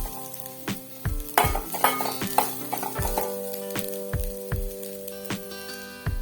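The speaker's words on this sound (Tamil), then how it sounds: "தேங்காயை நெய்யில் வறுத்து போட்டால் நல்லா கொழக்கட்டை மணமாக இருக்கும்" Grated coconut roasting in ghee in a pan, with a steady sizzle and a series of sharp scrapes and knocks from a spoon stirring it, close and fairly loud.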